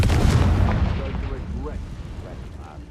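A Confringo blasting spell detonates in Hogwarts Legacy, a loud booming explosion at the start that rumbles and fades over a few seconds, with a character's voice over it.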